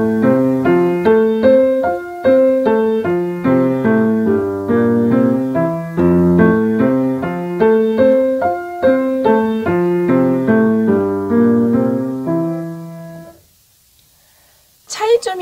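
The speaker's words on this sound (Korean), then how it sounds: "그러면 제가 이번에는 손목의 움직임과 손끝을 레가토가 될 수 있도록 부드럽게 쳐볼게요." Piano played legato with a soft, relaxed wrist and fingertips kept close to the keys, a smoothly connected melodic line running continuously and clearly up close, then stopping into near silence before a brief noise at the end.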